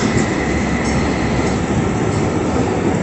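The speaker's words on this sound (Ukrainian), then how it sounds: "І трамвайчик." A tram rolls along a city street in Freiburg, its steady rumble and rail noise loud and close for the whole stretch, with no speech.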